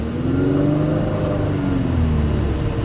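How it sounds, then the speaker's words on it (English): A 2023 Infiniti QX50 pulls away from a stop at a traffic light, its engine note rising smoothly and steadily under acceleration, heard loud from inside the cabin with no talking. "And then when you're ready to go, just hit the gas."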